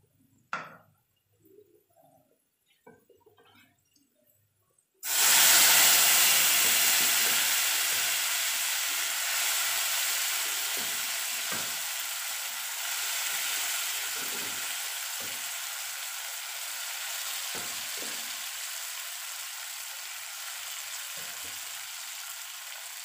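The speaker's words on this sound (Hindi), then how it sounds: "थोड़ी देर तक इसको हम फ्राई करेंगे, बहुत ज़्यादा नहीं करना वरना लहसुन जल जाएगा" After a few quiet clinks, garlic for a dal tempering hits hot oil with a sudden loud sizzle that continues as steady frying crackle, with occasional stirring taps.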